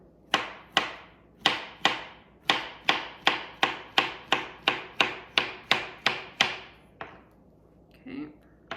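A knife slices bananas on a cutting board, giving about fifteen crisp, evenly paced taps close up, followed by a brief pause and a soft rustle.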